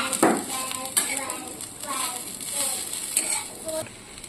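Sweet corn stirred into a sautéed mix in a bowl for a crispy corn chaat, with repeated scraping and clinking of a spoon against the dish in short irregular strokes, close and moderately loud.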